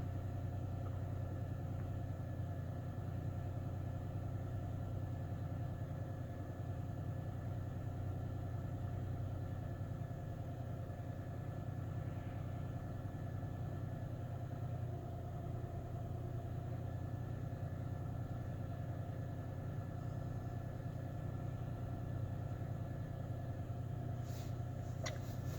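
A 2006 Nissan Pathfinder engine idles with a steady, continuous low rumble and even hum throughout, with no talking.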